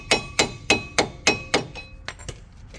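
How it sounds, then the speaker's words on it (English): Hammering on a flat screwdriver to seat a brake pad clip on a Nissan Versa: six sharp metallic strikes at a steady pace, close and clear, followed by a few lighter taps. "So what I'm going to do is use my flat screwdriver and just hammer it up."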